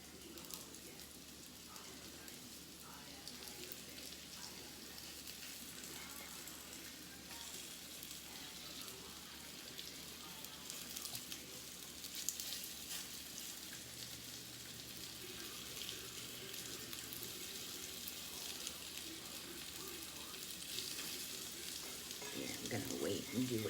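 Beef tips brown in a hot pan with a steady, close sizzle and crackle that runs unbroken throughout, with faint stirring and clatter near the end.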